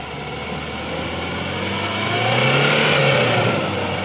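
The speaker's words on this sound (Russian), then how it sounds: "Посмотрим, как поедет автомобиль." A car on Kama MT tires at low pressure pulls away on wet snow, its engine rising loudly in a smooth rev that peaks and then eases off, close by with no talk.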